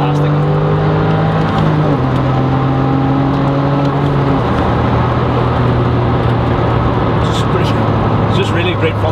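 A Porsche 911 Carrera S Aerokit engine revving hard on the road, a loud sustained drone climbing through the gears with clear shift drops, heard from inside the car with constant road roar throughout.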